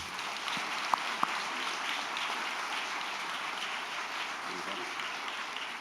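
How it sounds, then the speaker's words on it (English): Audience applause at a school board meeting honoring students headed to nationals, a steady, moderately faint wash of clapping that holds throughout, with a couple of sharper claps near the start. "give them a huge round of applause for going to nationals"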